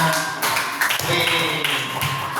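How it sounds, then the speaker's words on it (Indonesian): A classroom of students applauds, a brisk, steady patter of many hands clapping close by and filling the whole moment. "tepuk tangan untuk semuanya"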